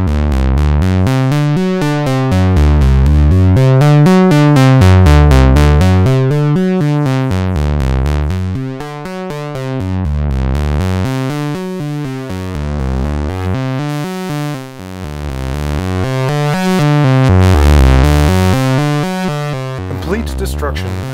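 A synth line driven through the overdrive of a Trogotronic m/277 panning tube VCA sounds gritty and saturated, its looping note pattern sweeping up and down in long waves, loud and alone for about twenty seconds.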